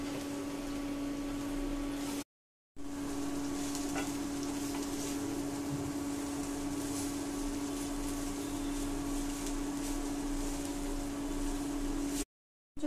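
Spices, tomato sauce and chili sauce roast in a pan over a low flame while being stirred, giving a steady, continuous sizzle with a faint hum underneath and brief cuts to silence.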